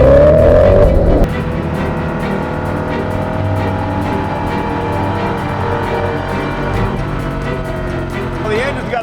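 A rare, expensive car's engine growls loudly while driving, opening with a higher rev before settling into a steady, close, deep drone with mechanical texture, with speech faintly audible beneath.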